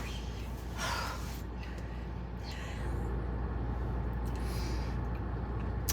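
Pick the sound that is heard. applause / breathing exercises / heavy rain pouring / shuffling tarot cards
breathing exercises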